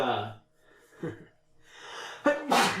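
A sharp sneeze from someone with a cold bursts out near the end, following a muffled throat sound and some faint breathy noise earlier, close to the microphone.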